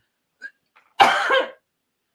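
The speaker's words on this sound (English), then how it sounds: "I may never recover from this coughing attack" One short, harsh cough burst at close range in an otherwise quiet room, preceded by faint breaths.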